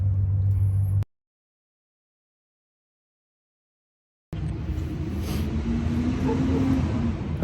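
Steady roar of traffic on a busy highway nearby, a continuous broadband rush with a vehicle's rising engine tone passing through, interrupted by a few seconds of dead silence.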